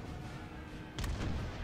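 Cannon fire in Napoleon Total War, a distant rumbling battlefield bed broken by a couple of muffled booming shots close together near the middle, with no talk.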